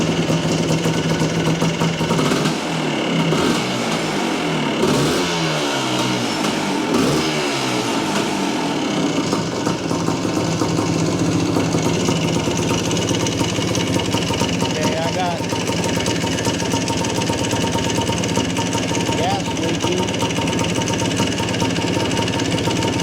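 Yamaha IT400 motorcycle engine running after start-up, a steady close rattling drone with slight revs early on, continuing without a break over about twenty seconds.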